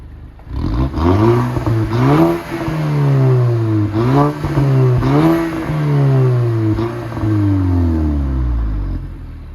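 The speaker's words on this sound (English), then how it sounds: "you want to hear the exhaust" An Audi TT exhaust revving repeatedly, engine pitch rising and falling in several bursts, loud and close with a deep rumbling tone.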